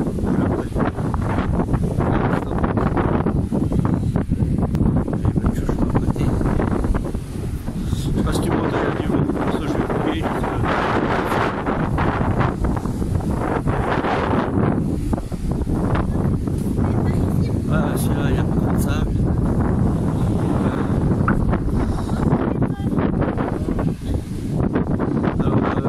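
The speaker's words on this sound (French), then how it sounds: "il y a du vent, je sais pas si tu m'entends." Strong outdoor wind buffets the microphone in a loud, continuous rush that swells and eases in gusts, with occasional voices under it.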